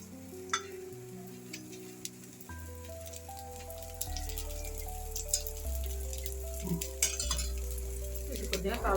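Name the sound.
crispy sago moong dal pesarattu frying in oil on pan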